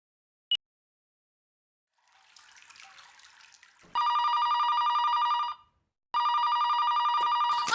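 An indoor telephone rings loudly in two long, continuous bursts separated by a brief pause, following a faint running-water hiss and a sharp click.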